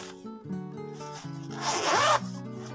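A zipper on a tripod package is pulled open in one short rasping sweep, close and clear, over a quiet background with faint tones.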